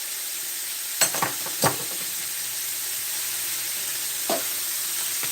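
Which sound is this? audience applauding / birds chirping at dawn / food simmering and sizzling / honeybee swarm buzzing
food simmering and sizzling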